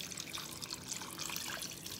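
Water from a tap runs steadily into a pot as four cups are measured out for canning pork bones, a continuous close splashing trickle throughout with no voices.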